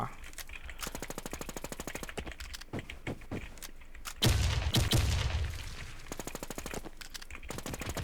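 Rapid automatic gunfire from a shooter video game, dense bursts of repeated shots with a loud heavy blast in the middle, steady and close throughout.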